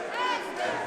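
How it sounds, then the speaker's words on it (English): Boxing crowd at a fight night chanting a fighter's name, a dense swell of many voices rising and falling in two surges, loud and close. "as the crowd chants his name in the blue trunks"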